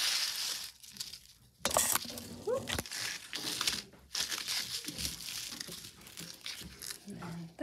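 A paper scrapbook mini album is flipped over and handled, giving close crinkling, rustling and soft thumps of paper and card in uneven bursts.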